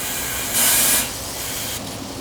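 Pressurized air hissing out of a small crack in a fuel tank bracket during a pressure test, a half-second loud steady hiss over a continuous background noise.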